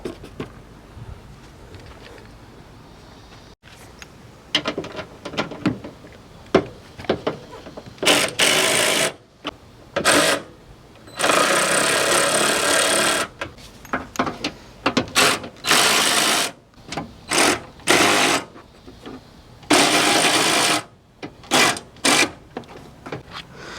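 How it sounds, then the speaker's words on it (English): Ratcheting tool or power driver backing out the front bumper bolts on a 3rd-generation Mitsubishi Eclipse, loud buzzing mechanical bursts of a few seconds each, repeated with pauses, close up and without talk. "So now when all those bolts are taken out, now you can take off the bumper."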